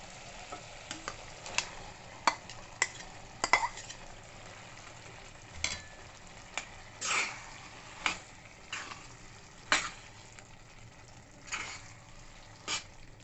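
A spoon stirs boiled dal into soft cooked tomatoes in a pan, giving a run of soft scraping strokes and light clicks against the metal over a faint steady sizzle, close by and unhurried, with no one speaking.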